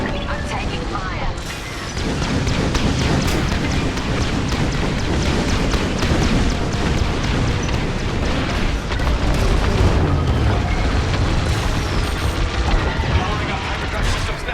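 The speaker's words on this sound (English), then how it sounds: "Blowing up hyperdrive systems now, Vanguard." Explosions in the Star Wars Squadrons space combat game as hyperdrive systems are blown up, a dense roar of booms and blasts rolling continuously under game effects and radio chatter.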